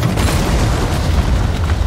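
A mine round explodes in the video game Resident Evil 3, a loud, dense, rumbling blast that fills the whole moment without letting up and with no voices over it.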